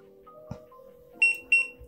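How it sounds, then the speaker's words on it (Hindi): A World Tag smart tracker gives a double beep as it switches off after a long button press: two short, clear electronic tones close together, loud against a quiet room with faint low hum. "तो ये डबल बीप का साउंड है, मतलब यहाँ पे ये स्विच ऑफ हो चुका है।"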